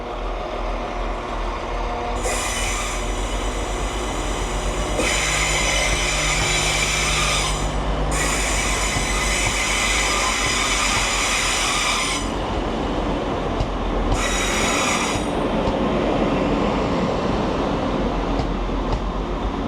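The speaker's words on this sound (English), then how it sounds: "So my train leaves from here in Leeds at 9 AM in the morning" A train leaving Leeds rumbles steadily along the rails, with intermittent high-pitched wheel squeal rising and falling over the continuous noise; no voices.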